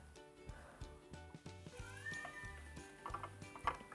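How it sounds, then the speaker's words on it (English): A cat meows outside a door while a game's music plays, with a few clear meows rising above repeating steady musical tones. "There's a cat meowing outside my door."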